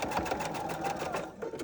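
A sewing machine back-stitches a seam on a fabric potholder with a steady, close, continuous whirring run and no pause.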